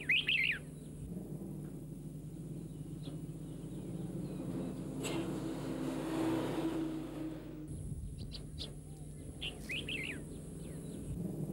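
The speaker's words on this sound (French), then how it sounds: "Les oiseaux d'élevage représentent souvent une de leurs seules richesses." Farmed birds, including domestic turtle doves, call in brief chirping bursts at the start and near the end over a steady background hum and a passing engine-like drone, with no talking.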